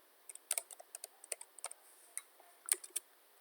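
Keys tapped on a computer keyboard while entering a total price into Revit Structure software, a quick irregular run of close, quiet clicks with short pauses.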